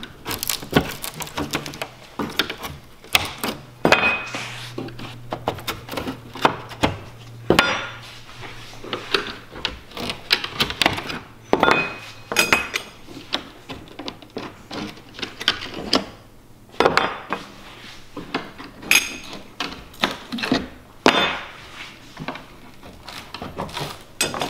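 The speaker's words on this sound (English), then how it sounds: "To take these brackets off, all you'll need is a flathead screwdriver." A flathead screwdriver prying metal brackets off the wooden shipping crate of an embroidery machine, heard as a long series of irregular close clicks, knocks and clatters with short pauses between them.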